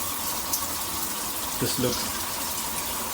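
Water runs steadily from a Moen Magnetix handheld shower on a tub faucet, a close, continuous hissing spray, with a voice speaking briefly over it.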